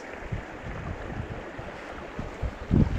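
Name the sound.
wind blowing outdoors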